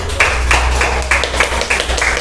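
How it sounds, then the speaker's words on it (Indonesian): Classroom applause for a student group after its presentation, a short burst of brisk, fairly loud hand claps from a small group of students, with distinct rhythmic claps repeating across the couple of seconds and no voices over them. "aplaus dulu untuk kelompok"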